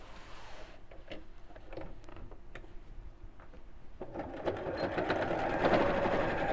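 A sewing machine stitches with a faint rapid mechanical ticking that grows denser and louder toward the end, alone without voices.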